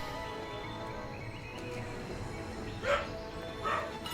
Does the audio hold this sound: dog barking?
yes